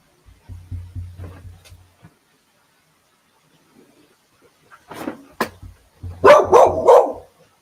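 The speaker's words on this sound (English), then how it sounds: "The next door neighbors just let their dogs out." Next-door neighbors' dogs let out into the yard, a run of quick muffled barks early on, then louder sharp barks and thumps a few seconds later.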